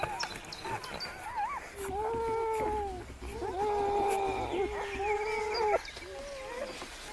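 Young pups whimper inside their den, a run of high, wavering whines that rise and fall in several drawn-out cries, close and fairly clear over faint background rustle.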